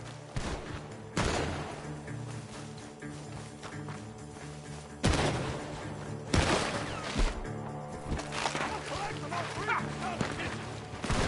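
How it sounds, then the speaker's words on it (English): Gunfire from a shootout at a barn in the video game Red Dead Redemption 2, a few loud sharp shots breaking out at irregular intervals over a background of game ambience and movement. "The gunshots are coming from that barn."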